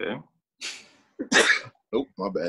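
One person sneezes once, sharply and nearby, between short bits of casual talk.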